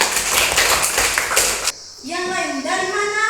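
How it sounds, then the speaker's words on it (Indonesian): A short burst of brisk applause for children in a classroom religion lesson, close and loud for under two seconds, then a voice speaks. "Tepuk tangan untuk anak-anaknya."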